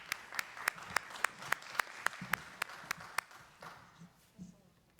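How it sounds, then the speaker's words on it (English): At an electric vehicle conference, a small audience claps for a panel: a dozen sharp, evenly spaced claps close by, fading into scattered softer ones with murmured voices underneath. "if we can just thank our panel and give you a big round of applause"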